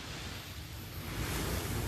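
Sea waves wash onto the calm beach at Na Jomtien, Sattahip, Chonburi, making a steady, close, broadband rush that swells slightly toward the end, mixed with some wind buffeting.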